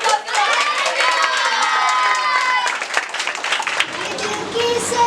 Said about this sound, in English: Give a thunderous round of applause.